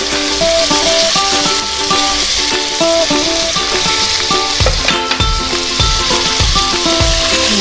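Beef fries with chili flakes in a pan, giving a loud constant sizzle with stirring scrapes, while a melodic music track plays over it.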